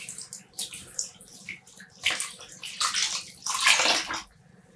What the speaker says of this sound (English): I'm just squeezing out some of the water.